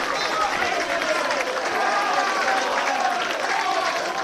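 Rugby supporters at a university match between Nottingham and Swansea applaud as the team enters, a dense steady wash of clapping and crowd noise with voices mixed in.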